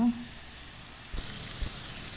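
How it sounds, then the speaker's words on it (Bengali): Noodles and onion frying in a pan with a little butter give a steady, soft sizzle throughout, with a couple of brief low knocks near the middle. "সব কিছু মিলিয়ে আমি এটা ভালো করে একটু ভেজে নিচ্ছি"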